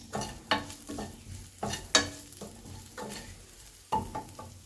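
Grated coconut frying in a pan for a shrimp chilli fry, with a soft continuous sizzle broken by repeated sharp scrapes and knocks of a spoon stirring at an uneven rhythm, close by.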